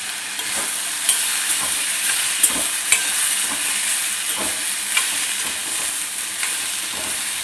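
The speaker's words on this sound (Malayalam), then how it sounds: "നമുക്ക് ഇച്ചിരി ഇളക്കി കൊടുക്കാം" Chinese potato stir-fry with pepper and garlic sizzling in a pan, a constant bright crackle with occasional soft scrapes and taps as it is stirred, close and without talk.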